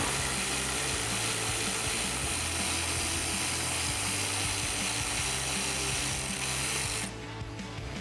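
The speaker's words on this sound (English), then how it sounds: "grab that T30 Torx socket and get it removed" A power tool with a T30 Torx socket drives out bolts on a Jeep Gladiator JT, a loud continuous whirring buzz that holds steady before abruptly easing near the end.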